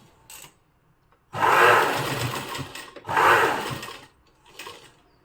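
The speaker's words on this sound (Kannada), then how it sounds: "ಇಲ್ಲಿವರೆಗೆ ಮತ್ತೆ ಸ್ಟಿಚ್ ಮಾಡಬೇಕು." A sewing machine stitches fabric for a mat in two long whirring bursts, with short quieter mechanical sounds before and after.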